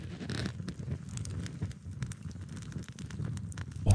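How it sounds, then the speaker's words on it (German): A campfire burns with irregular crackles and snaps scattered over a low, steady roar, with no voices. "Wenn ihr so Feuer hört oder seht"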